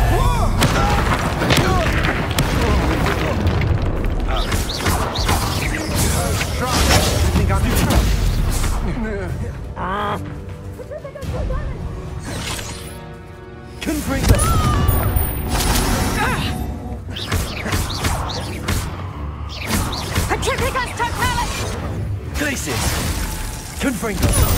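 Repeated booming blasts and shattering crashes of the Confringo fire spell in Hogwarts Legacy, loud explosive hits recurring through a busy spell-fight with a brief lull midway, a voice talking over the combat.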